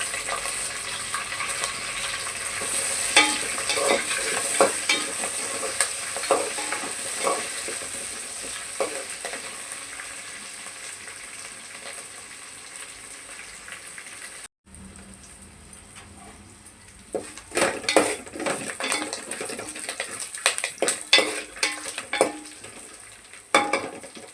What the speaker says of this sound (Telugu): కొంచెం కరివేపాకు వేసుకుంటున్నానండి.